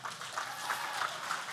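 Faint crowd applause at a school network's anniversary event greets a singer-songwriter as she is called back on stage, a soft, diffuse patter of clapping heard from a distance.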